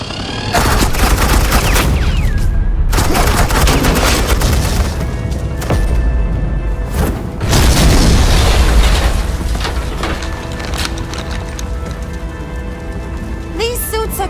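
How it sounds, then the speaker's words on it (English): Suppressing gunfire and explosions in a Batman Telltale video game, with dense rapid firing and booming blasts that stay loud throughout and come in several bursts, broken by a few brief pauses. "suppressing fire."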